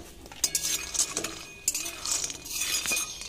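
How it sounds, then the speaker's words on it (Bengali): Cashews and peanuts frying in a kadai, with repeated metallic clinks and scrapes of a spoon stirring against the pan over a soft background sizzle, close and fairly busy throughout. "কাজু বাদাম আর চীনা বাদাম একটু কড়াইয়ে ভেজে নিচ্ছি"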